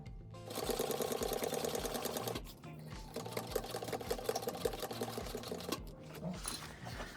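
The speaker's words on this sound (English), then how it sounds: "And then I'm going to continue to sew." A sewing machine stitches a zipper panel for a handbag, running in steady, rapid bursts that break off briefly twice as the work is repositioned, close and fairly loud.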